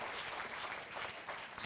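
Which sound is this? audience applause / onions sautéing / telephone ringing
audience applause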